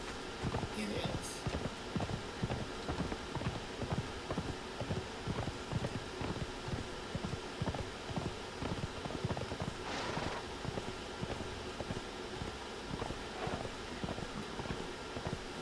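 Horse hooves clip-clop in the video game Conan Exiles, a steady, evenly spaced run of close hoof beats that continues throughout, with a voice talking over part of it.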